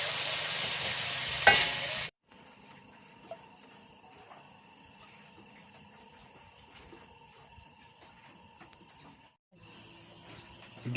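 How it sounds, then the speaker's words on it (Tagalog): Ginger being sautéed in a pan while cooking native chicken: a brief loud sizzle and stir at the start, then a long quiet stretch of faint frying hiss, with the sizzle picking up again near the end. "Gigisa na tayo mga ka-sisters ng luya."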